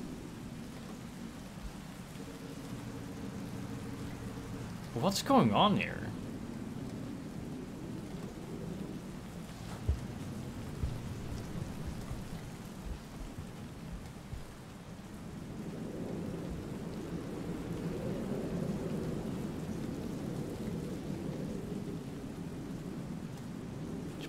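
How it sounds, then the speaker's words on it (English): Rain and thunder in the video game Rain World: Downpour: a steady, loud downpour with a sharp thunder crack near the start, then a swelling rumble later; a voice briefly speaks. "Yeah, it's still raining."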